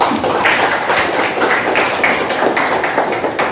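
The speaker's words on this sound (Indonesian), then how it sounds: "beri tepuk tangan" Steady applause from a classroom of students, many hands clapping in a dense, continuous patter that holds at an even loudness from start to finish, with no voices standing out.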